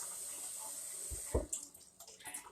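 Tap water running into a kitchen sink as beans are rinsed, a steady hiss that drops away partway through with a couple of sharper splashes and clatters near the end.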